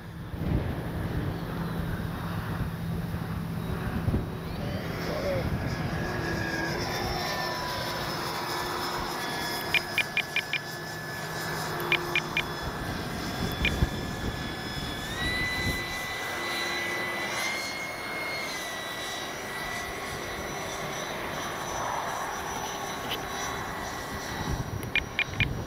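A Durafly Vampire V3 RC jet model aircraft flies overhead with a steady electric ducted-fan whine that rises and falls in pitch as it passes, heard from the ground amid outdoor noise with occasional faint clicks.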